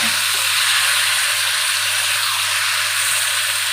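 Drumstick stems frying with sugar in a pan while being stirred, a steady loud sizzle holding throughout with no talk and a low hum beneath.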